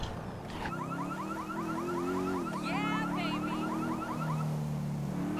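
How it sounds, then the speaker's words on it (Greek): A car alarm in Grand Theft Auto V wails steadily, with a rapid warbling whoop pattern layered on top, loud and continuous for several seconds without talking. "Ωραία, σταμάτησε ο συναγερμός."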